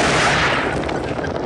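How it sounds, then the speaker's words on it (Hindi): Gunfire in a Hindi action film: a loud, dense burst of shots fills the opening half second, then a rumbling tail of echo and scattered crackle fades out, with no talk over it. "क्यों तुमने गोली चलाई?"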